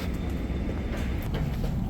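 Steady low rumble of an ITX-Saemaul passenger train in motion, a constant droning roar with faint rattling, heard continuously throughout.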